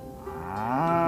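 A single cow lets out one long moo that rises and swells louder toward the end, heard alone and fairly close.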